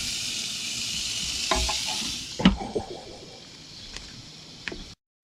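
A Beyond Burger sizzles steadily on a Grill2Go grill, a constant bright hiss broken by a few clanks and scrapes of a spatula before it cuts off abruptly.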